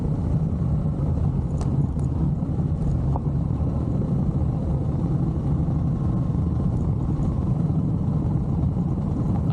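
A Honda Hornet motorcycle engine hums steadily and close up along a bumpy, potholed road full of holes, water and divots, with occasional knocks and jolts breaking the constant drone.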